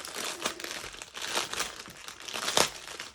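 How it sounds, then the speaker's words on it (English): Plastic packaging crinkles and crumples while a diamond art kit is unboxed, with several louder crunchy bursts between softer rustling, close and alone. "so sorry about the crinkling"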